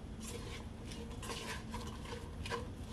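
Spoon scraping and stirring through a crawfish pie onion mixture in a pot, soft repeated scuffs and clinks against the metal, quiet and close with a faint background hiss.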